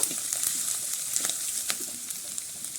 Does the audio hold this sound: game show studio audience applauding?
no